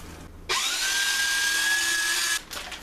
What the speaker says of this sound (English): So first I'm going to grate my cheese.